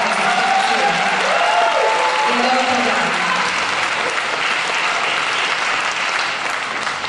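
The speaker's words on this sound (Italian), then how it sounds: "L'applauso l'avete già fatto voi," Sustained, loud applause from a Christmas concert audience for a junior band, dense and steady throughout, with a faint voice briefly audible within the clapping.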